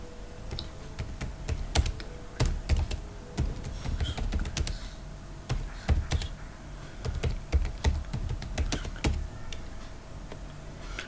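Close, crisp keystrokes on a computer keyboard while logging into a PostgreSQL database, irregular bursts of rapid clicks with short pauses between them, no talking.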